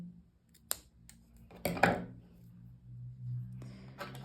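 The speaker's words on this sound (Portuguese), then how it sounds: "Eu vou cortar assim um pedacinho." Scissors snip through a piece of thick, wide t-shirt yarn during a crochet bag project, giving a couple of sharp, close cuts with quiet handling noise between them and no talking.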